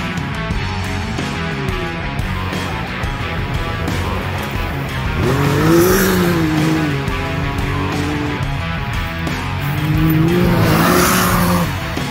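A Can-Am Maverick X3 side-by-side races with its engine roaring loudly and steadily, swelling into two rising and falling high-revving surges, with blow-off valve whooshes likely between them. No voices are heard.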